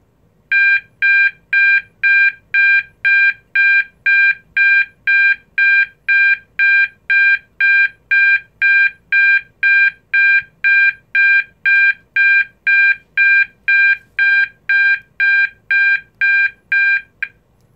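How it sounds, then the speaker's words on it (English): E2S A100DC24R alarm sounder giving an 800 Hz intermittent tone pulsing twice per second, a loud, even string of identical electronic beeps repeating without a break. "Next is 800 hertz at intermittent at 2 hertz."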